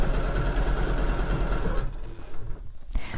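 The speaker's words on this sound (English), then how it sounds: "So I'm just sewing both layers together through by attaching the seam allowances" A sewing machine runs a straight stitch through fleece lining and outer fabric, a loud, steady whir at a constant pace that slows near the end and stops briefly.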